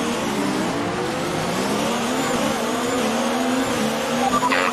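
F1 2019 race cars howl together in a dense pack, the sustained engine roar climbing steadily through the gears as the grid launches off the line at the Bahrain Grand Prix, loud and continuous with faint tire noise.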